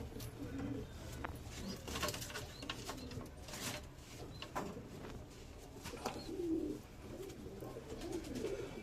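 Pigeons in a loft coo in repeated soft, throaty phrases, close and fairly faint, with light rustling and scattered clicks around them.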